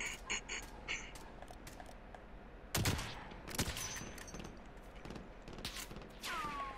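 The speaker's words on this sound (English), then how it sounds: "I'm getting shot at." Gunfire aimed at the player in the Warzone shooter game: a few sharp, sudden cracks and short bursts at moderate distance, spaced irregularly over faint background game noise.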